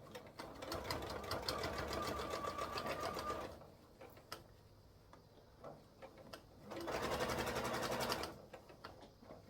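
A sewing machine stitching a beginner DIY purse runs in two bursts of fast, even mechanical ticking, with a quieter pause of handling and fabric noise between them.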